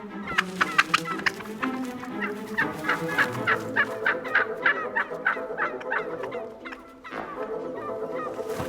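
Wild turkeys gobble repeatedly in a flock, with overlapping loud, rattling calls that arrive in quick bursts throughout. A brief lull comes near the end before the gobbling picks up again.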